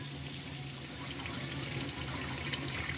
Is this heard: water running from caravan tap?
yes